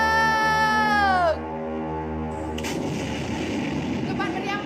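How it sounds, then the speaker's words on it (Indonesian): A cannon fires with a deep boom that gives way to a rumbling, noisy wash, set in a staged battle scene after a sustained crying or wailing tone cuts off. "Letupan meriam meledak di udara."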